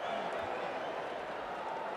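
A cricket crowd clapping in the Ashes Cricket video game, a continuous wash of applause and crowd murmur with some faint voice mixed in, holding steady for the whole couple of seconds.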